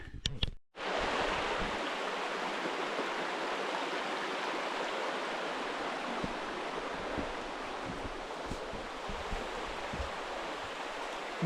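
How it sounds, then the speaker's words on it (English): Pond Brook flowing toward Pond Brook Falls on a forest trail, a steady broadband rush of running water that holds close and loud throughout, with a brief dip near the start. "that brook goes to the falls"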